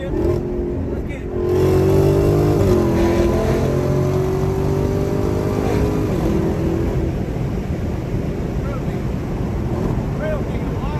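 Dodge Hellcat Redeye engine revving hard through a series of downshifts, loud and close with rising and falling pitch sweeps, under heavy wind noise and people talking.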